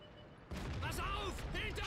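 A sudden heavy tank cannon blast from a Ru 251 in World of Tanks after a quiet start, followed by a rumbling, crackling tail and high whining effects.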